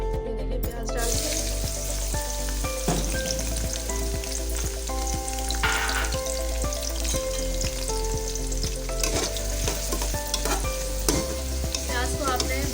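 Chopped onions frying in hot oil inside a pressure cooker, a steady close sizzle with repeated stirring scrapes and clinks of a spoon throughout.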